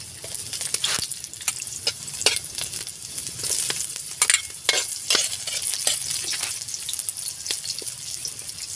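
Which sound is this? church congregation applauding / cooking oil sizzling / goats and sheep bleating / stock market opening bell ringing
cooking oil sizzling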